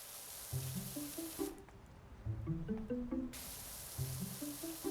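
Pressure washer spraying in PowerWash Simulator 2: a steady hissing jet of water that cuts out for a moment and then resumes, with light stepped game music tones playing underneath.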